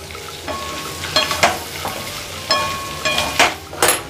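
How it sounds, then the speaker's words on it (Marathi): A spatula stirs red chilli powder into a frying mixture in a pan, making repeated loud scrapes and clanks over a continuous close sizzle. "मिक्स करून घेते तिखट."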